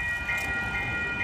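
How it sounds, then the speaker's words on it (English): An Amtrak Capitol Corridor passenger train passes close by at 98th Ave in Oakland, a steady loud rumble of wheels on rail with a sustained high tonal ring over it. "And this train is on 528 going to Sacramento."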